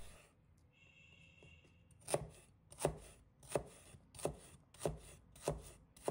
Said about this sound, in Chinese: 1块生姜，把它切成小块。